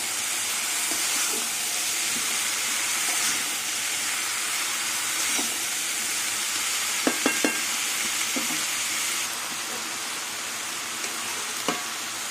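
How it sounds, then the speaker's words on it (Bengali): Cabbage stirred with spices in a hot pan for a Bengali cabbage and prawn ghonto, giving a steady close sizzle with occasional sharp clinks of a spatula against the pan. "এবার বাঁধাকপি দিয়ে মশলা দিয়ে ভালো করে আবার কিছুক্ষণ নাড়াচাড়া করে নেব।"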